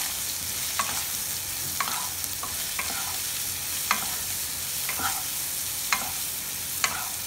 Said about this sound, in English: Now add the marinated baingan or eggplant.